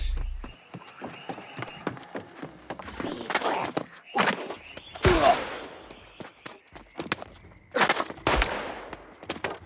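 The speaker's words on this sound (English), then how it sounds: "Oh, they're shooting." Scattered gunshots in the fantasy online game New World: Aeternum ring out amid footsteps and running, moderately loud bursts under quiet background game ambience.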